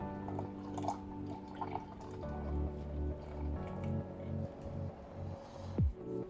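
Milk pours and gurgles into a measuring cup for blueberry muffin batter, a faint close, steady liquid fill with small drips and splashes.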